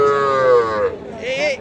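Young calves at a cattle market in Raniganj give a loud, close moo that drops in pitch, followed by a shorter second call.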